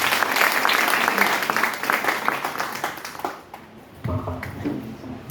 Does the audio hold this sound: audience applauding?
yes